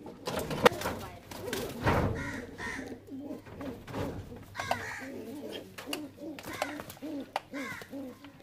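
Bele Madras pigeons in a loft give soft, repeated coos and low bird calls throughout, with a few sharper wing or body sounds, while a person talks intermittently nearby.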